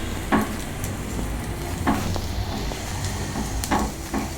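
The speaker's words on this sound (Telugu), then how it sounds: "ఇట్లా ఎగ్స్ని కొంచెం ఫ్రై చేసుకోవాలి" Boiled eggs for egg curry frying in a pan, a steady hiss of oil with a few soft utensil scrapes at intervals, close and moderately loud, no speech.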